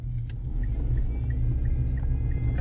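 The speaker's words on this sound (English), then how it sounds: "don't know if you can hear my car, it's whining" A low, steady engine rumble from inside a moving car, with a faint high whine and soft periodic ticks over it, no voices.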